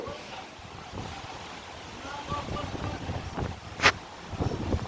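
Strong wind on a hilltop at Himavad Gopalaswamy Betta roars and buffets the microphone in a continuous rumbling rush that swells in gusts toward the end.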